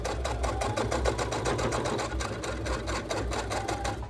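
A sewing machine stitches over the tab of a drawstring bag, a quick, even run of close mechanical needle clicks and motor hum, continuous and near throughout.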